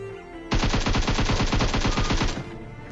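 A sustained burst of rapid automatic rifle fire in the mobile game PUBG Mobile, likely an M4, lasting about two seconds: loud, close and evenly spaced shots with no talking.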